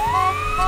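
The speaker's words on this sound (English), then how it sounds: "And a siren, of course." Siren on a Ninjago-themed vehicle in the video game LEGO Worlds, a steady electronic tone rising slowly in pitch, loud and continuous over a low engine hum, with no talking.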